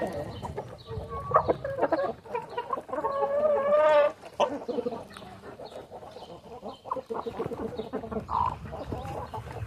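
A breeding rooster and hens on a farm cluck and call repeatedly, with one loud drawn-out crow in the middle, close by and lively, amid some background farmyard noise.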